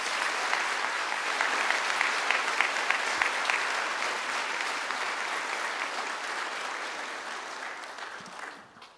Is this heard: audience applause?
yes